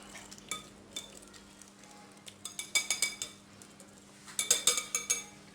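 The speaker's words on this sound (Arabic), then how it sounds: "نحرقو الفارس ديالنا جيدا" Chicken and vegetable quiche filling with pasta cooking in a pan, close-by clinks and scrapes of a utensil stirring over a low steady sizzle, with the tapping growing busier toward the end.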